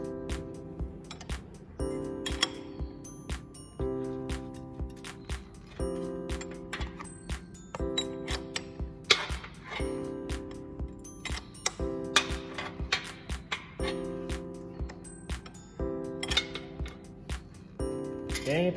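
An engine crankshaft turned with a 19 mm ring spanner on the bolt under the radiator fan: repeated metallic clinks and ringing ticks in a steady stop-start rhythm, close up and quiet.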